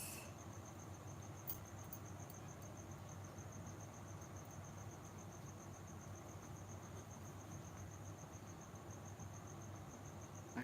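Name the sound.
crickets chirping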